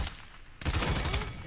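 A weapon fired at targets in the video game Paladins: a quieter opening, then a sudden loud, dense burst of rapid shots continuing to the end.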